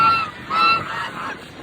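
Geese honk loudly and close by, giving a few overlapping nasal calls in quick succession with no talking.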